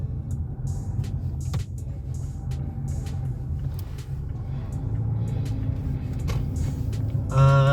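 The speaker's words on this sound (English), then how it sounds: "a less busier road so that you can feel the acceleration of this car" A 2015 Mazda CX-5 with a turbo accelerates along a quiet road, giving a steady, close, low engine and road rumble that swells slightly and brightens near the end.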